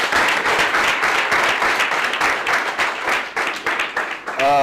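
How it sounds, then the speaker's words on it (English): An audience at a breakfast talk breaks into close, lively applause that swells and fades in waves, tapering off near the end as a voice starts to speak. "A round of applause to Vianto."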